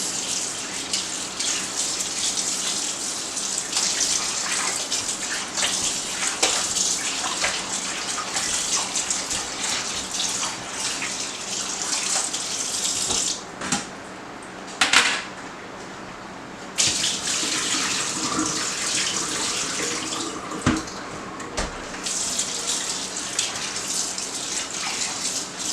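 Running tap water splashes steadily onto raw chicken being rinsed in a sink, a continuous close gushing with a couple of brief pauses where the flow is interrupted.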